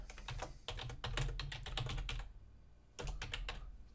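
Typing an email address on a computer keyboard: close, quick bursts of light key clicks, a short pause, then another flurry of taps.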